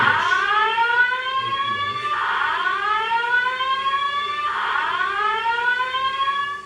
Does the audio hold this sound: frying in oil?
no